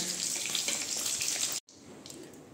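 Eggs fry in hot oil with a steady bright sizzle and crackle, cut by a brief moment of silence before a softer sizzle resumes.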